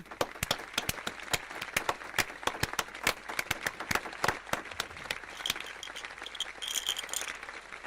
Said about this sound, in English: A very big applause to them